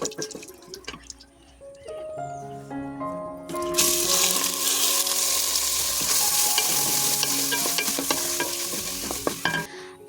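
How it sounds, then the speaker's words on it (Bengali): Rice and lentils sizzle in hot oil with dried red chillies and bay leaves while a spoon stirs and scrapes the pan, the frying growing suddenly louder and staying busy and close throughout. "তারপর চালটা আর ডালটা দিয়ে ভালোভাবে ভেজে নেব"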